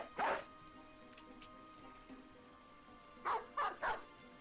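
Short bursts of dog barking from the video game Battle Brothers: one yap near the start, then three quick barks in a cluster later, fairly faint and with no voice over them.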